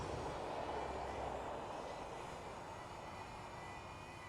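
A DJI Flip drone flies nearby, giving off a steady, fairly quiet whirring hum of small propellers over outdoor ambience that fades slightly as it moves away, with no talking.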